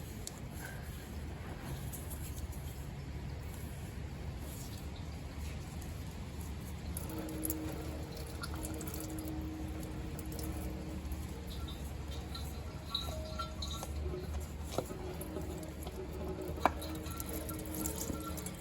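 Engine oil drains from a VW Polo in a quiet, steady trickle with faint patter and a few soft drips and clinks from the workshop. No one speaks.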